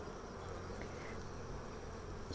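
Honey bees buzz steadily and densely during a hive inspection, a continuous close hum with no pauses and no talk.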